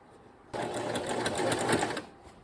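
A sewing machine runs fast and steady for about a second and a half, stitching along the edge of a quilt close by, starting and stopping abruptly.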